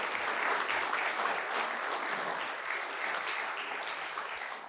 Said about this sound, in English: give a big round of applause to this.